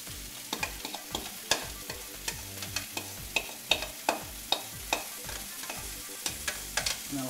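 Chopped onion fries in a hot pan while being stirred, a steady soft sizzle broken by regular scraping knocks of the utensil throughout, no voices.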